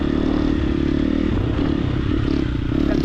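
Triumph TF250X motocross bike running steadily on a forest ride during engine break-in, a loud, continuous engine drone with clattering and scraping over it, no speech.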